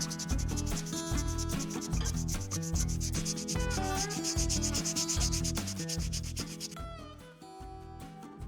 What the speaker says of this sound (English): I used sandpaper to smooth out the handles